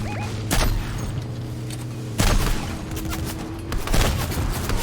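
Gunfire from a Fortnite Battle Royale match: bursts of rapid automatic shots and sharp booms arriving in three loud clusters over ongoing game sounds.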